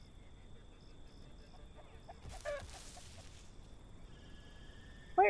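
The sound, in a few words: chicken-like creature calling in video game The Isle Evrima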